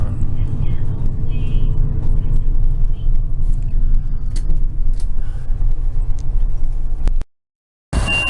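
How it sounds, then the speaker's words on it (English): A bus rumbles past a small roadside station in Taiwan, its heavy engine noise loud and steady for about seven seconds before cutting off abruptly. "That was my bus."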